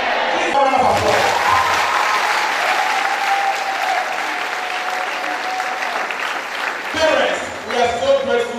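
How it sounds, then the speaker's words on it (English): Graduation ceremony crowd at Sonrise High, class of 2021, breaking into sustained loud applause, steady clapping that swells and fades briefly near the end while a voice speaks over it at the start and close. "Please round of applause."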